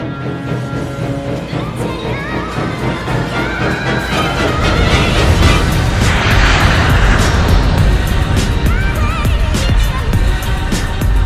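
Southwest Airlines airliner engines spool up to max thrust on the takeoff roll, a loud broadband roar building steadily and holding strong from start to finish.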